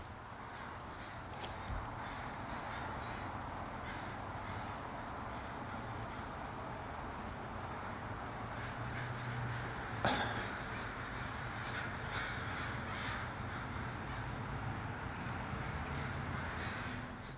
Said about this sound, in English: I think we've got like a reenactment of the crows going on outside.